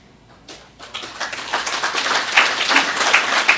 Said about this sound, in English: I ain't say that for claps and all that